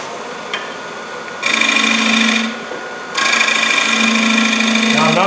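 A wood lathe spins a bowl while a gouge cuts near the rim, giving a steady whirring hum in two bursts with a quieter gap between, nearby and fairly loud.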